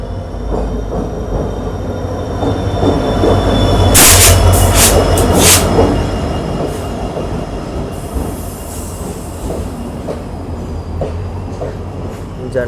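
The Bengaluru Janshatabdi Express passenger train from Shivamogga runs past on the tracks, with a loud continuous rumble and rattle of wagons close by and sharp wheel squeals partway through. Faint voices can be heard under the noise.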